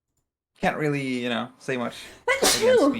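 A single sharp sneeze bursts out near the end, right after a person speaks briefly in a close, dry indoor setting.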